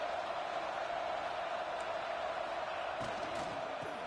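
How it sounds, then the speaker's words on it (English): A stadium crowd at a college football game, Oregon against South Carolina, gives off a steady, dense roar that stays loud and even throughout, heard alone without talk. "It's early, but this crowd is fired up. Listen to this noise here."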